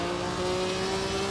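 A 1950s Alfa Romeo 158 Grand Prix racing car in the Assetto Corsa video game, heard as a steady, loud, sustained engine drone with a constant buzzing pitch and no voices.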